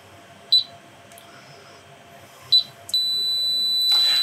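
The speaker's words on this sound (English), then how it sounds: "you can hear the long beep, and that is the system fully armed." Bosch Solution 3000 home alarm panel beeping: two short chirps, then a long sustained tone that continues to the end as the system fully arms, clear and close in a quiet room.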